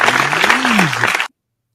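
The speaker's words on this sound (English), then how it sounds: "A little round of applause to our truck guys." Short, lively round of applause on a casual beer-show podcast, a dense patter of clapping lasting just over a second with a faint voice underneath, then cutting off abruptly into silence.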